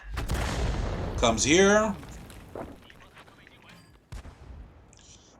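A tank cannon fires in World of Tanks with a booming opening blast and a sharp later shot, heard under someone talking over the game sounds.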